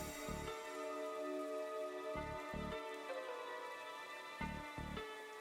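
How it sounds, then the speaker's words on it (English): Steady rain hiss from the game Darkside Detective, a continuous even patter under layered background music with a few soft low thumps. "I can't stand the rain."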